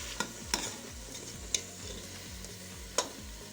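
A spoon stirs achar gosht chicken in a pot over a quiet background sizzle. A few sharp metallic clinks of the spoon against the pot ring out at irregular intervals.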